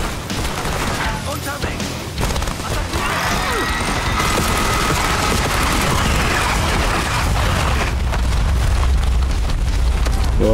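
Heavy mortar fire in Call of Duty: Black Ops 6: continuous rumbling blasts and booms layered over each other, loud and dense, with voices talking through the barrage.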